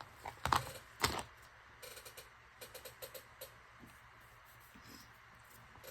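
An old pair of scissors clips off glued paper, with two sharp, close snips near the start followed by a run of lighter, quicker clicks that fade away. No one speaks.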